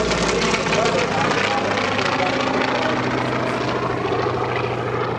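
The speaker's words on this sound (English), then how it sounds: "the Grumman airplanes coming in" A Grumman warbird airplane coming in at an airshow, its propeller engine a loud, steady drone that fills the whole stretch, with a person talking over it.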